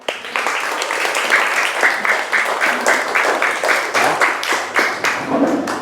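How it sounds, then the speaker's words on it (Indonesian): A classroom of students applauds after a group presentation: steady, fairly close clapping from many hands for several seconds, with a few louder individual claps standing out before it fades. "Ya, tepuk tangannya."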